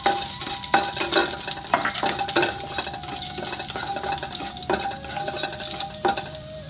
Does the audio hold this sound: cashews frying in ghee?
yes